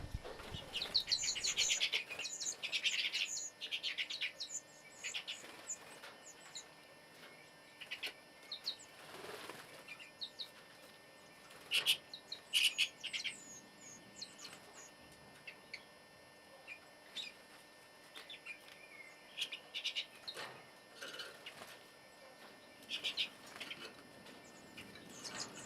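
Redpolls and bullfinches in an aviary give soft, scattered chirps and tweets amid repeated bursts of fluttering wingbeats, faint and close, continuing throughout with no talk.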